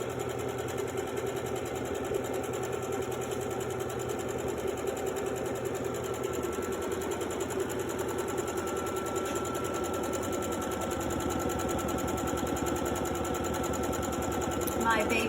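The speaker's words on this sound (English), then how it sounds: "So I'm sewing this end together, and then I will keep going." A Baby Lock Brilliant sewing machine stitches jelly roll quilt pieces together, its motor giving a steady, close, continuous whirr with a fast needle rhythm that runs without pause throughout.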